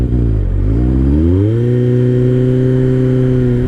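A 2003 Kawasaki ZR7S motorcycle engine idles roughly on a cold start, its revs dipping and then settling into a steady, loud, close-up idle with no one talking.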